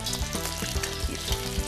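Beer-battered fish fries in oil in a wok with a loud, dense crackling sizzle, close and continuous, broken by periodic low knocks and bubbling pulses, with no talk.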